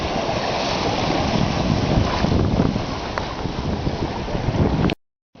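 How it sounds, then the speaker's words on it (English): A sailboat under way on the open ocean after a squall, heard as strong steady wind buffeting the microphone over rushing water and waves for about five seconds before it cuts off abruptly. "here we are, sailing along again"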